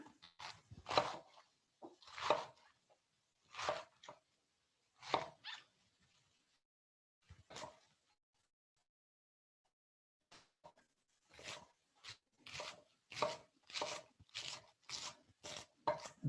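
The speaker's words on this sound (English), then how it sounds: "I'll cut this cabbage a little bit finer this time" Sharp knife chopping cabbage on a board: a few separated cuts, a pause, then a quick steady run of evenly spaced chops, close and crisp with no talking.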